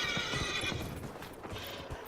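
A horse in Dragon Age: Inquisition gives a loud close whinny while its hooves clip-clop in a quick uneven rhythm, all within a couple of seconds.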